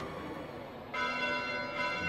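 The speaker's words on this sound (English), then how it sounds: "Bells? This late at night?" Church bells ring out at night in the Fire Emblem Three Houses video game, a resonant tolling that swells suddenly partway through and sustains with rich ringing overtones, no voices over it.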